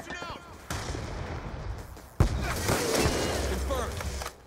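Gunfire in Black Ops 2, a sudden heavy blast midway through dense game noise and rumbling, with other shots and a faint voice.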